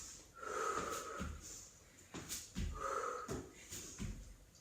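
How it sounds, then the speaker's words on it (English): Slow, deep breathing during a Pilates workout, with rhythmic airy inhales and exhales that have a slightly wheezy, nasal edge, close and fairly quiet, repeating about every two seconds. "Some nice deep breaths here."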